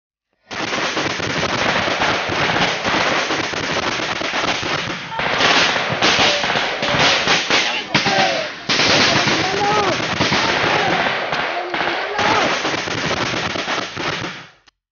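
Soldiers open fire during an assault on an NPA rebel camp in the Philippines, rapid sustained bursts of gunfire crackling loudly and almost without pause, with shouted voices faintly mixed in.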